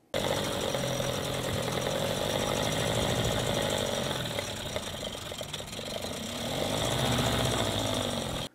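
An outboard boat motor with its cowling off runs steadily and loudly throughout, a buzzing drone that dips briefly before revving back up near the end.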